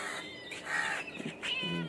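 A pet cat named Chingri answers being called with a few short, close meows, quiet and clear in an otherwise calm room, with no one talking.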